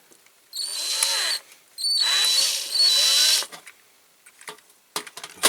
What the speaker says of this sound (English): Start with a smaller drill just to get the centre right.